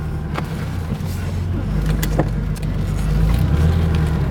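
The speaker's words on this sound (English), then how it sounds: "So this is a 5-speed car with a 3-liter SC motor." A 1980 Porsche 911 SC Targa with a 5-speed gearbox and 3-liter engine drives along, a steady low engine drone and road rumble heard from inside the car, continuous throughout.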